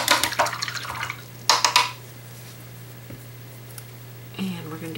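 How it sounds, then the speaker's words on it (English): A paintbrush being rinsed in a water cup after acrylic painting, with a few short bursts of splashing and clinking against the container, then quieter swishing under a steady background hum. "I'm going to go ahead and rinse my brush out because paint could be drying in it"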